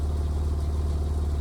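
Porsche 911 997 Turbo Cabriolet with its 3.6-liter flat-six idling close up, a continuous low rumble with a faint mechanical flutter, no talking.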